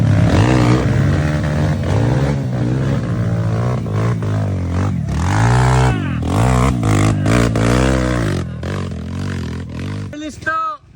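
Motorcycle on a trail with new tires, engine droning and revving with rising and falling pitch, loud and close, with voices talking over it.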